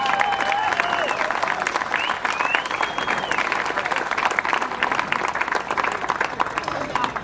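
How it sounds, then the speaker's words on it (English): An outdoor audience at a carousel dedication applauds in a continuous, dense burst of many hands clapping, lively and fairly close, with faint voices mixed in. "So please give them a round of applause."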